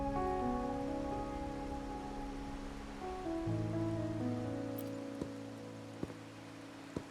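Steady rain patters as a soft, continuous hiss beneath gentle sustained music in a video game, with a few faint ticks near the end.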